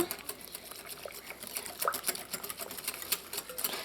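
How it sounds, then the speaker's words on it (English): Flour and evaporated milk whisked together in a bowl for Trini flour halwah, producing a quick, close, rhythmic clicking and light liquid patter. "And you want to whisk the flour and the milk together."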